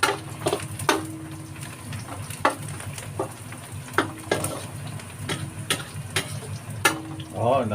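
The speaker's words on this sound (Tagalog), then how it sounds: "pinakapuno ng sibuyas na sariwa. Gigisa tayo, ha." Fresh onions sautéing in a pan ahead of ground pork, a steady sizzle broken by repeated sharp scrapes and knocks of a utensil stirring against the pan, close and fairly loud with no talking.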